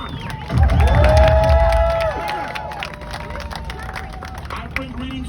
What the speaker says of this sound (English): Huge round of applause, come on.